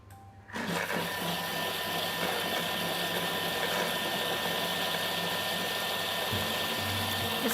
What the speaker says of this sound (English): Just gives it a nice, good mix. And it's getting all of the bananas all nice and smushed up too.